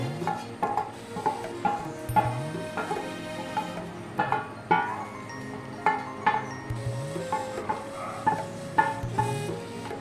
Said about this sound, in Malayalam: ശർക്കര പാനി ഒഴിച്ചു കൊടുത്തിട്ടുണ്ട് നന്നായിട്ട് ഹൈ ഫ്ലെയിമിലിട്ട് നമുക്ക് നന്നായിട്ട് കുറുക്കിയെടുക്കണം